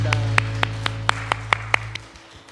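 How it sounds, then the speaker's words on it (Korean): A Korean church congregation offers a round of applause at Sunday worship, heard as a run of about eight evenly spaced, sharp claps over a sustained organ-like tone that fades out near the end. "우리 주님께 감사와 영광의 박수 올려드리겠습니다."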